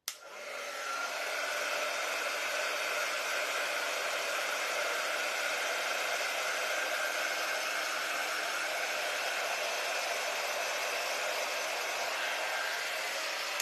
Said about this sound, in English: let me dry this and look at it